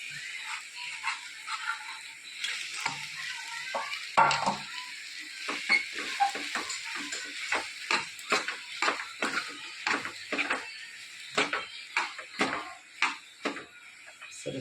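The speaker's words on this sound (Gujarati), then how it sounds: "સરસ મસાલાને આપણે મિક્સ કરી લઈએ અને અંદર નાખી દઈએ આપણે બટાકા અંદર નાખી દઈએ." Spices and boiled potatoes are stirred together in a pan for Bombay-style vada pav, giving repeated scraping and stirring strokes with a soft sizzle. The stirring is steady and close, with no speech heard.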